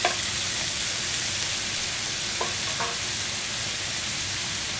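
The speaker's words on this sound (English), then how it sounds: "Just a touch of white wine, and then in go the mushrooms." Mushrooms and a splash of white wine sizzle steadily in a hot pan while deglazing it for a pork in Dijon sauce, a constant close frying hiss with a few faint clinks of utensils.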